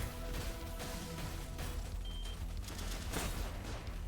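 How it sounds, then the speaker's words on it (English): Dense, continuous gunfire and grenade blasts in the sci-fi shooter Mycopunk, a loud unbroken barrage of shots and explosions with no voices over it. "Use a grenade."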